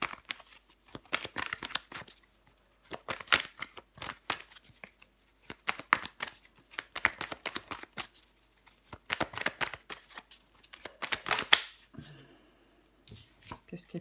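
Tarot cards are shuffled and dealt out in rapid papery riffles, flicks and slaps that come in bursts, close up and crisp, with brief pauses in between.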